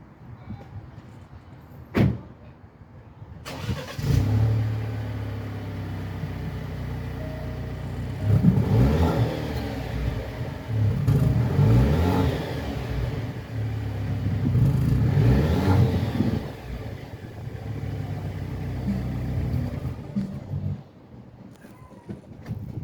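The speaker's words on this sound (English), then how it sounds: "this is how the car sounds before the changeover" A 2018 Alfa Romeo Giulia Ti Lusso with its stock exhaust: a door thuds, then the engine cranks and settles into a steady idle, rising through three revving sweeps up and back down before the car shuts off.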